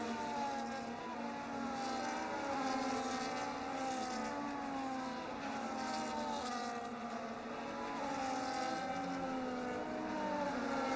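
Race cars on the Singapore street circuit in the RFC Season 6 Round 11 race, heard as a continuous, steady engine roar from several cars over the opening laps, with no talk and no distinct braking events.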